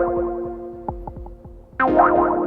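A synth played through an Empress ZOIA preset combining wah, delay and reverb: repeating plucked notes sweep and echo in quick succession, then a brighter, fuller chord swells in near the end, loud and alone.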